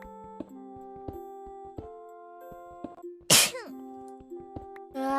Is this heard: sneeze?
yes